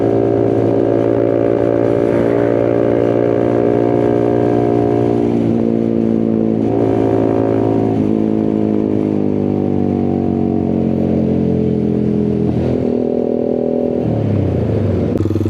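A motorcycle rides at full throttle along Jalan Raya Bogor while touring, its loud, close engine droning and rising in pitch through several gear changes with strong wind rush and no talk.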